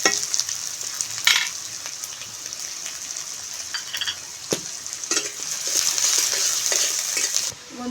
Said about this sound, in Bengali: পেঁয়াজটাকে তেলের মধ্যে ভালো করে নেড়ে ছেড়ে ভেজে নেব